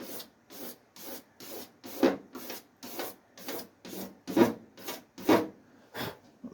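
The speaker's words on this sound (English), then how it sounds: "It's making that nice scraping noise" A hand scraper works paint runs on Ford Escort MK1 bodywork, giving about a dozen rhythmic rasping strokes, each a short dry scrape at a steady pace, close and fairly quiet with no talk.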